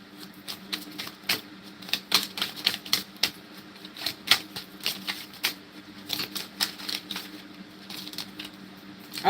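Cards riffled and shuffled by hand in a dense run of quick, crisp flutters and snaps, close and moderately loud with no talking.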